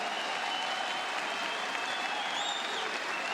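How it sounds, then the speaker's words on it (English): An esports arena crowd at a Counter-Strike: Global Offensive quarterfinal in Katowice claps and cheers in a dense, steady wall of applause, loud and continuous throughout with scattered shouts. "Get Right now getting the crowd on their feet"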